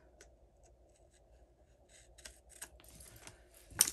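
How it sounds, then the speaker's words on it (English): Scissors cutting paper during a card-making craft session, a few faint snips that grow sharper toward the end and finish in a crisp, louder closing cut. "where are my scissors? I'm gonna cut this."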